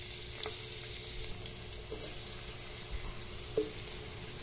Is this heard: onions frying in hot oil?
yes